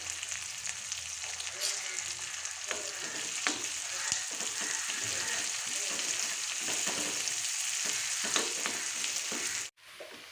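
Onions, two dried red chillies and curry leaves fry in hot oil in a pan for a steady, close sizzle that holds for about ten seconds. Light stirring clinks sound underneath, and the sizzle briefly cuts out near the end.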